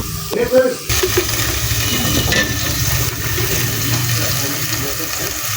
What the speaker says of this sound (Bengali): এখন অল্প পরিমাণে একটু পানি দিয়ে দিব